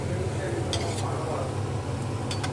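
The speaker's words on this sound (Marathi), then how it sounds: "नंतर मोदक तळून घेऊया" Small modak fry in hot oil with a steady, dense sizzle throughout. A few faint clinks of a utensil can be heard against the pan, close up and under a constant low hum.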